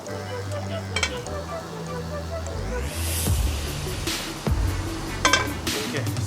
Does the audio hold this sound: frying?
yes